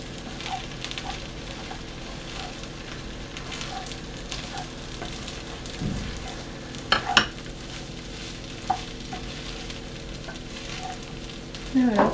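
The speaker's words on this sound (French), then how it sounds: "On mélange un bon coup pour bien permettre à la crème d'adhérer partout" Cream is stirred into chicken drumsticks, rice and mushrooms frying in a pan, producing a steady close sizzle with occasional spoon scrapes and clinks against the pan.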